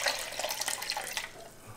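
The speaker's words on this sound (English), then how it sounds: "Now we don't need all the water, so we're going to pour off about half of it." Water poured off from softened, reconstituted ancho chiles into a sink, a soft continuous splashing trickle up close that tapers away at the end.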